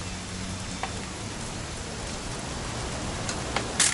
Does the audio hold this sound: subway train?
no